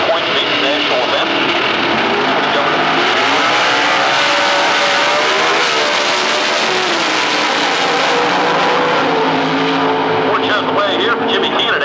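A Dodge-powered drag racing car roars down the strip at Atlanta Dragway during a 1999 NMCA event, a loud sustained engine wail rising in pitch under a track announcer's commentary.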